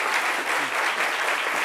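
Studio audience clapping for guests on a live television show, a dense burst of steady applause, loud and close throughout the short moment.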